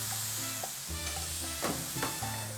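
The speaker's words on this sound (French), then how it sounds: "On va le faire griller de la même façon" Pineapple pieces grilling in a pan for a sauce, a steady quiet sizzle with bursts of stirring and scraping, close up, over a low tonal hum and no talking.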